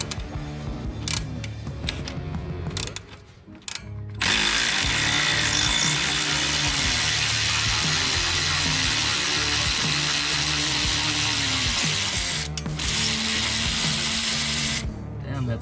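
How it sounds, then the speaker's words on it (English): A 15 mm electric socket wrench loosens long coilover bolts on a Silverado Trail Boss, a loud, sustained whirring run after a few shorter bursts and clanks, with brief pauses between. "Justin's gonna go ahead and use his 15 millimeter electric socket to loosen these"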